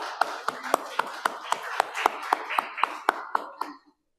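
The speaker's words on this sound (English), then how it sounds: "Let us give a grand applause for Her Excellency" Applause at the grand opening of the World Urban Pavilion in Regent Park, a sparse, fairly even run of individual claps, each distinct, quiet and somewhat distant, fading out near the end.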